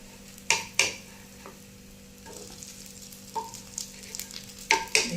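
Maggi tikkis fry in a pan with a low sizzle while a spatula scrapes and flips them, giving a few sharp clacks early, quieter scraping in the middle and more clacks at the end.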